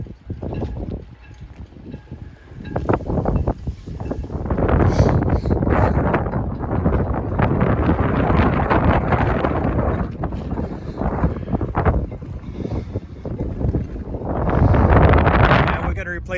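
Strong wind storm on the San Joaquin River Delta batters a boat, with a torn upper sail flapping and rattling in loud, continuous gusts and heavy wind buffeting on the microphone, surging again toward the end.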